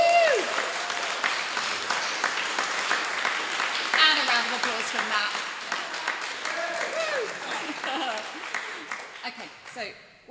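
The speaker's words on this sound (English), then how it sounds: "I think we should give him another round of applause." Audience applauding a guest at a live talk event, a sustained round of clapping with cheers and whoops over it, loud and close, tapering off near the end.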